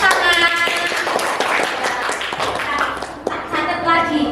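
A classroom group claps hands in a loose burst of taps under overlapping voices and background music, moderately loud and close.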